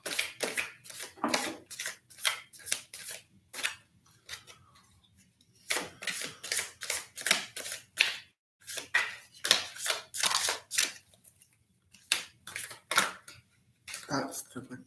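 Oversized oracle cards being shuffled by hand, bursts of riffling and sliding card noise in repeated short runs separated by pauses, close and fairly clear.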